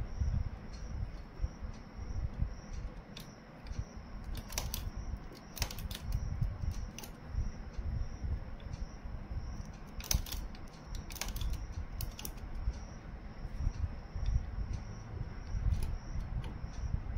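Carriage of a domestic knitting machine being pushed back and forth across its needle bed while a one-year-old's sweater is knitted, giving repeated mechanical clicks, rattles and ratchet-like creaks in uneven bursts, close and moderately loud over a low steady hum.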